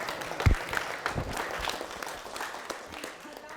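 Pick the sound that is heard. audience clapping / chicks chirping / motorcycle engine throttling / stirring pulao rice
audience clapping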